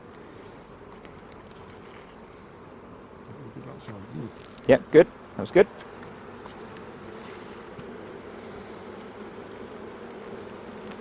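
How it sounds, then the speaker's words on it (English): Bees buzz steadily around an open WBC beehive during an inspection, a close, continuous hum with a few louder passes near the microphone while people talk briefly. "They are lovely calm bees."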